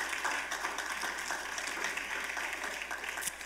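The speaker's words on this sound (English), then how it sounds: "give the Lord a hand clap of praise" A church congregation claps hands together in praise, a dense, steady patter of many hands at moderate distance, fairly soft and continuous throughout.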